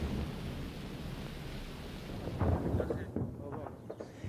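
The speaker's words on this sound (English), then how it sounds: "a barrage of rockets and shells was unleashed on a small town in the Caucasus Mountains of Georgia." A barrage of rockets and shells pounds a small town in the Caucasus Mountains of Georgia during the 2008 South Ossetia fighting, a continuous rumbling roar that swells into heavier close booms about halfway through.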